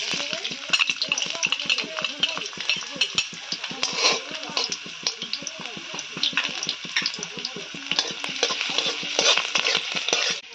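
Ginger and garlic frying in hot oil for egg fried rice, a dense steady sizzle with rapid clicks of stirring and utensil scrapes throughout, close and fairly loud.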